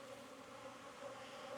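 Honey bees drone inside an opened hive in an apiary, a faint, steady, smooth buzz that holds even and unbroken with no voices over it.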